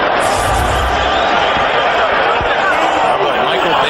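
A stadium crowd at an NFL football game, the 2000 Baltimore Ravens at Pittsburgh Steelers, lets out a sustained sarcastic cheer, a broad roar of many voices that fills the whole span with a few thuds underneath.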